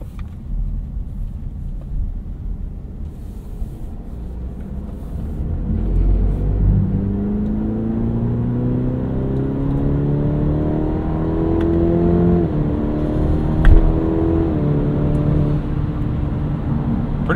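A 2021 Cadillac CT5 Luxury with the base 2-liter engine pulls hard in sport mode up an on-ramp, its revs rising in a steady climbing whine, dipping briefly at a shift, then climbing again over road rumble from inside the cabin.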